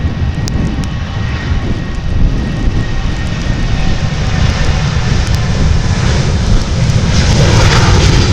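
An airliner roars continuously and loudly at Montreal Trudeau Airport (YUL) in bad weather, a broad, rumbling engine noise that holds steady and swells slightly toward the end with no voices.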